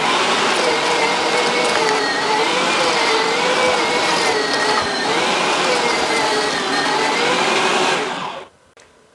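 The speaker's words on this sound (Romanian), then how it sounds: "Acum vom toca și morcovii." A food chopper whirs loudly and steadily while chopping carrots, holding one continuous motor drone for about eight seconds before cutting off abruptly.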